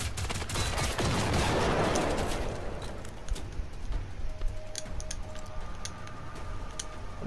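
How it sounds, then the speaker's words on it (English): Shotgun gunfire in Generation Zero, a cluster of sharp rapid blasts in a loud opening burst, followed by scattered fainter shots and metallic clinks over a low background rumble. "We use a shotgun."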